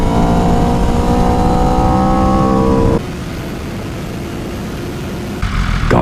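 A BMW S1000RR or Aprilia RSV4 1100 Factory superbike engine roaring loud and close at high revs, then dropping abruptly to a lower steady drone before rising again near the end.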